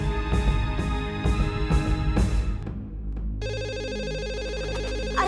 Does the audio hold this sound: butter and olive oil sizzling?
no